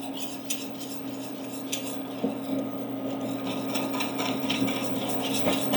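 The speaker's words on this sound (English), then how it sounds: "That's why you see me keep stirring here vigorously." A spoon stirring cornbread dressing in a pot for Thanksgiving, rapid clinking and scraping against the pot in an unbroken run under a low background hum, close and fairly quiet.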